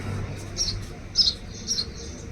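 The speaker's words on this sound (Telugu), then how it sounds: "ఇగో అవి పిచ్చుకలు తల్లులు వస్తున్నాయి వాటిని చూసుకోవడానికి" Sparrow chicks chirp from a nest in summer, giving three short, faint bursts of high tweeting over a steady low background hum.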